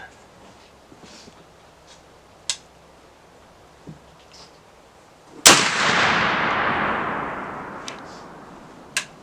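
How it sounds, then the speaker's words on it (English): A muzzleloader rifle loaded with 60 grains of 3F black powder fires at 25 yards: one loud, sharp blast followed by a long rolling decay, with faint ticks and clicks before it. "All right, third and final shot with 60 grains, 3F, 25 yards."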